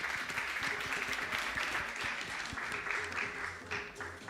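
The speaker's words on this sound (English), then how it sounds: "Let's give her a big round of applause." Audience applause for a presenter at a startup challenge grand finale in Cape Town, South Africa: a sustained, fairly even wash of many hands clapping throughout.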